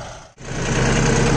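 A John Deere tractor engine runs steadily at 1200 rpm, a loud, close, rumbling idle with a brief dip before settling into a constant drone.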